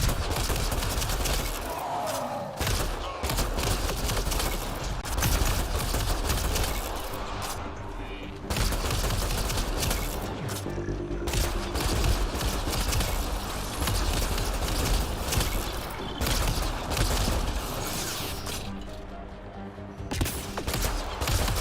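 Sustained gunfire and heavy bullet bursts in Mass Effect Andromeda, a dense, loud barrage of shots with brief pauses, mechanical clatter and occasional booms.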